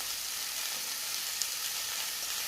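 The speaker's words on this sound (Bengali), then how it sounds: "এখন আমি নেড়ে দেবো।" Chillies and spices with turmeric fry in a pan, giving a steady close sizzle and crackle with faint stirring scrapes, and one small clink partway through. No talking.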